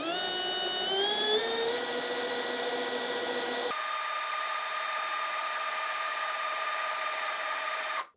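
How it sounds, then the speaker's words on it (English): A power drill whines at high speed while boring a hole through a thick boat hull. The pitch rises at first, then the tone shifts partway through to a steadier, thinner whine that cuts off abruptly at the end. "Okay, so we got the hole drilled."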